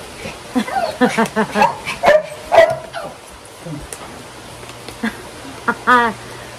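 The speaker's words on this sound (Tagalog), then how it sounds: "Grabe itong aso namin." A dog named Zoe barks and yips repeatedly outdoors, close and fairly loud in quick uneven bursts, with whimpers and a few later sharp yelps.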